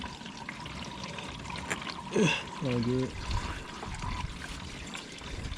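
Motor oil trickling and pouring out of a car's drain during a first-time home driveway oil change, a steady liquid stream running throughout beneath a man's brief spoken remark.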